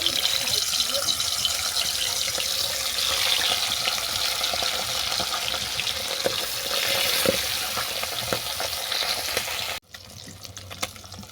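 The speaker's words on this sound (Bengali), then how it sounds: "তেল গরম হয়ে গেছে এরপর মাছগুলো আমি ভেজে নেব" Dense, steady sizzling and spattering of fish frying in hot mustard oil, close and loud, continuing for several seconds before an abrupt cut to quieter frying.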